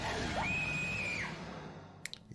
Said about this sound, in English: Yep, that was a good scream, though.